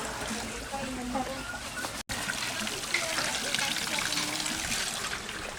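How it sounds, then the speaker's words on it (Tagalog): Water runs nonstop from an unlimited supply that flows around the clock, a steady splashing trickle with voices talking over it. "Unlimited tubig ni siya diri. Then, 24 hours magsigig agas ang tubig."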